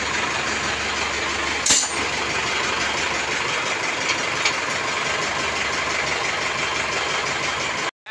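Engine of a serviced vehicle idling steadily after a tune-up in Malvar, Batangas, a continuous even hum lasting throughout with one brief metallic clink early on, no talk.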